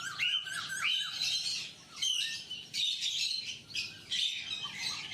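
Pet birds in an indoor bird room chirp and tweet in quick, bright bursts. Several calls overlap at close range with short pauses between phrases.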